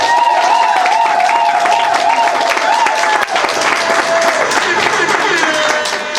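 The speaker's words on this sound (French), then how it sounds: "Ça s'acclame." Guests applaud at a civil wedding ceremony at the town hall of the 3rd arrondissement of Ntoum, a dense, steady clapping that runs throughout, with voices and music mixed in.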